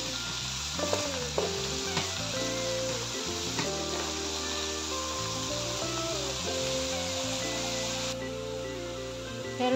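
Beef sizzles in a pan with steady frying hiss, while tonal background music plays prominently over it and occasional stirring knocks come through.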